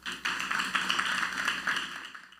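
A crowd at a youth event applauds performer Jeff, the clapping fairly quiet and dense, rising sharply and holding steady for about two seconds before tapering off.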